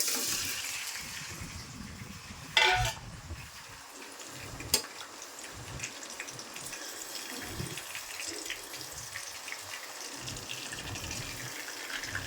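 Marinated rohu fish head frying in hot oil in a kadai, a low continuous sizzle with a sharp splash and a click early on, no talk.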